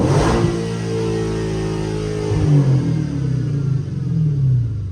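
A car engine revs once sharply to around 4,000–5,000 rpm, then its pitch falls back as the revs drop. The idle rises slightly again and wavers, loud and close, with no talk.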